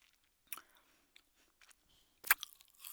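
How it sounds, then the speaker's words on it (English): A frozen grape being bitten and chewed up close: a couple of sharp crunchy bites separated by quiet gaps, with soft wet chewing sounds between them. "Let me eat a grape. It's a frozen grape."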